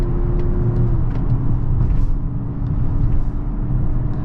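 A 2024 Mazda CX-90 SUV accelerates on the road, heard from inside as a loud, steady low engine rumble with a rising drone and road noise, no talking.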